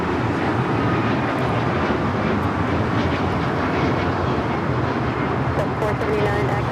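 An Alaska Airlines Boeing 737 MAX 9 takes off with a broad, steady roar of jet engines at moderate distance, with voices talking over it.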